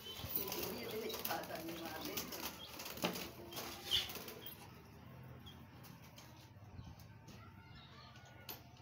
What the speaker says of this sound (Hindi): ये बस छह तोते हैं।